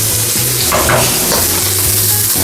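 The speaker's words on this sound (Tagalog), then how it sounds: "Satay lang po natin ang ating bawang hanggang lumabas ang kanyang aroma" Garlic sautéing in a hot pan for a celery, shiitake mushroom and chicken dish: a steady, close sizzle of frying with stirring scrapes running throughout, no voices.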